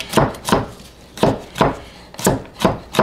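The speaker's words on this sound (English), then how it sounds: "Nothing particularly fancy about chopping this." A knife chops garlic steadily on a cutting board, about eight sharp thuds in an uneven rhythm, close and fairly loud with no talking.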